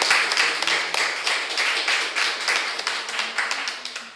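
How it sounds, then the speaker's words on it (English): A debate audience claps for the Peaker team after a close round against Maggotty High School, giving steady, bright applause that holds for several seconds and thins out toward the end. "A round of applause for Peaker."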